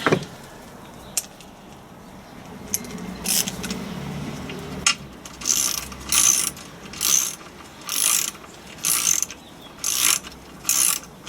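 Mechanical clicking and rustling at first, then a steady run of rapid ratchet bursts repeating about once a second as bolts on a Land Rover Defender TD5 LT230 transfer box are tightened, close by with no talking.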